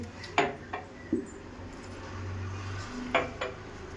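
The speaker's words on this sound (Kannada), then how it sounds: "ಆಮೇಲೆ ಈ ಥರ ಲೋಟಗಳು ತಗೊಳ್ಳಿ." Drinking glasses and dishes are picked up and set down for a grape mocktail, giving several sharp clinks spaced apart over a steady low hum, close and fairly loud, with no talking.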